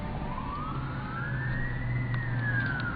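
A fire engine pumper's wailing siren heads to a fire, rising and falling steadily over a low engine rumble, fairly close and continuous with no talking.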